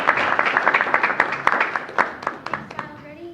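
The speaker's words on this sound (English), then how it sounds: "Please give our pledge leader a big round of applause." A small audience claps at an evening school board meeting, honouring a student pledge leader; a brief burst of scattered, uneven claps with a voice heard briefly under it, thinning out toward the end.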